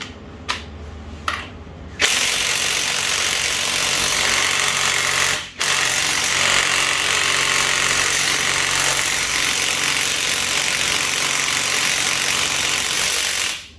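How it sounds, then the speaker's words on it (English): An impact wrench hammers at the timing belt pulley of a 2.0 HDI engine in a long, loud, close burst, briefly stopping once, after a few short trigger taps at the start. "I don't believe that my impact wrench will be able to do that, but let's try."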